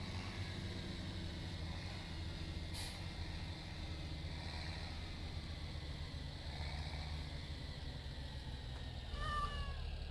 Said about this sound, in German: Oh, Katze, hallo.